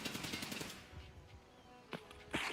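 Video game gunfire crackles in a rapid automatic burst at the start, followed by a couple of sharper isolated shots near the end, fairly faint overall.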